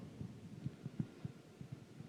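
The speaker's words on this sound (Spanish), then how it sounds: "Sentí el latido de tu corazón. Feel your heartbeat." Heartbeat sound effect playing under a guided meditation, a soft low thumping pulse repeating steadily about every quarter to half second, quiet and even with no talking.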